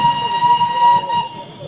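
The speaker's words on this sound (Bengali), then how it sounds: "ও হর্নটা বাজলেই ধোঁয়াটা বেরাচ্ছে" A Darjeeling steam toy train's whistle blows loud and steady for just over a second, layered with bright tones over a hissing background, then cuts off abruptly and leaves only a softer hiss.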